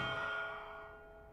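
A single struck bell in the video game Hogwarts Legacy rings out once with a bright clang, then sustains and slowly fades, heard clearly on its own.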